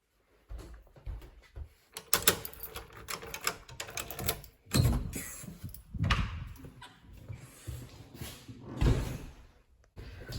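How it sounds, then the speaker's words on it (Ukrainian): Chairs and tables are being moved downstairs in an echoing hall. Repeated loud scrapes, knocks and thuds come in irregular bursts through a resonant room, with no talking. "хтось з католиків рухають стільці, столи."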